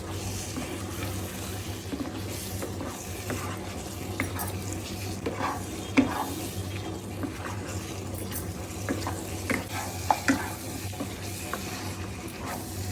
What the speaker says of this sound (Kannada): ಒಂದು ಎರಡು ನಿಮಿಷ ಈ ಥರ ಚೆನ್ನಾಗಿ ಫ್ರೈ ಮಾಡ್ಕೊಂಡಿದ್ದಾದಮೇಲೆ ನಮ್ಮ ಮಟನ್ ಗೀ ರೋಸ್ ರೆಡಿ ಆಗುತ್ತೆ